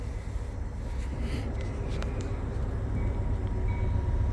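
An Amtrak passenger train rolls past as a steady, broad low rumble that swells gradually and stays loud throughout, with faint high squeals over the top.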